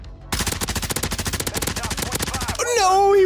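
Automatic gunfire in the video game Warzone from a Tempest Razorback: a loud, rapid burst of evenly spaced shots running for about two seconds, then breaking off into a rising electronic whine.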